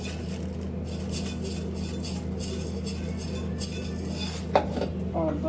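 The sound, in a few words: washing urad and chana dal in a bowl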